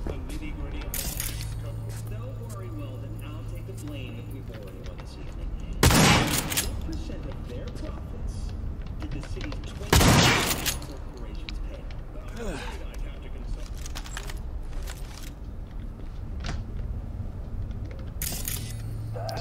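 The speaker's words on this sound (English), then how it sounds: "I gotta shoot down there." Gunfire in the video game Cyberpunk 2077, with a few loud, sharp shots standing out over a continuous bed of game sound and music while a player talks.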